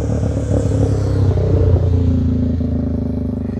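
A motorcycle passing on a farm during a field day event, its engine rumbling and clattering loudly up close as a continuous drone that slowly fades slightly toward the end.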